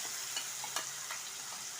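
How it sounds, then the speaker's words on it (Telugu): A paste of onion, garlic, ginger and coriander fries in a pan with a faint steady sizzle, broken by a few soft stirring scrapes. "ఇది పచ్చివాసన పోయేంత ఇలా ఫ్రై చేసుకోవాలి"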